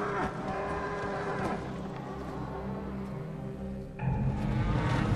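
A herd of animals lows in the video game Until Dawn, deep moos and bellows rolling over a rumbling backdrop, growing louder and fuller in the last second.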